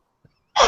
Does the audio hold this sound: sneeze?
yes